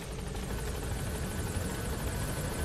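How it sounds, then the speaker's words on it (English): A helicopter arrives at a landing zone in the video game Metal Gear Solid V: The Phantom Pain, its rotor a steady, dense thumping drone that stays loud and continuous throughout. "Calling our helicopter here."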